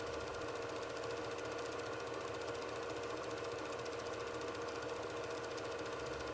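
Steady, dense mechanical engine drone with a rapid rattling pulse, continuous and loud throughout, from vintage motorcycles running hard at Brooklands racing circuit.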